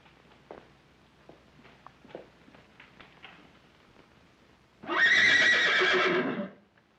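A horse kept indoors in a house library gives a loud, drawn-out whinny lasting nearly two seconds, preceded by faint scattered clops and small thuds in an otherwise quiet room.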